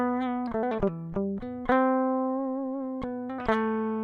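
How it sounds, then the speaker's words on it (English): Clean, unprocessed electric guitar direct-input signal: a short picked melodic phrase with distinct plucked notes and a sustained held tone, dry and close, with no amp coloration, talk or other sound. "I can show you the sound of my DI"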